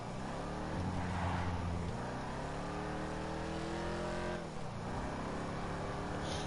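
Vapid Dominator GTX muscle car engine in Grand Theft Auto 5, a low, fairly quiet rumble that revs up, shifts and climbs again while driving.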